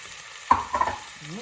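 Instant potato frying in a pan for corned beef, with a short burst of sizzling and stirring scrapes around the middle, then quieter crackle fading out.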